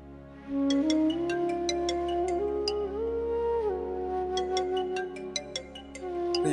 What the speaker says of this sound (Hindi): ये तो उसके बापू का फोन आने लग रहा है।